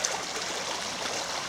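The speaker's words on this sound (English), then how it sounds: "crossing over the Tilling Bourne, which has plenty of water in it" Water of the Tilling Bourne stream rushing steadily and continuously, a close, full, hissing flow without pause.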